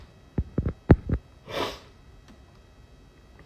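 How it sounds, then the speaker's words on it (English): A single breathy sneeze in a dusty indoor room, preceded by a few quick sniffs and catching breaths, then quiet room tone; no speech. "I'm gonna sneeze."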